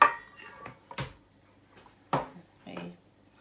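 A spoon scrapes and clinks against a mixing bowl while sugar is stirred, several short separate knocks and scrapes with pauses between, fairly close.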